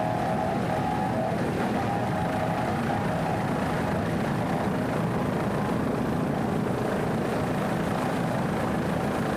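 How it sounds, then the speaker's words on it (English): Offshore racing powerboat in a Factory 2 class race under hard throttle, its engine roaring loud and steady throughout with a constant droning hum and no pauses. "Great throttling there by Juan Santiago, the throttle man"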